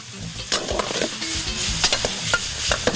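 Beef and broccoli stir-frying with oyster sauce in a hot pan, bright steady sizzling broken by quick scraping and clattering stirs of a utensil, close up with no talking.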